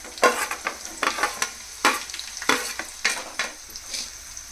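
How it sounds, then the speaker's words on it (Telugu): Sliced medium onions and green chilies cooking in a pan for a mock liver fry, with a soft background sizzle broken by a series of close, sharp scraping stirs. "ఆనియన్స్ వేయించుకోవాలి"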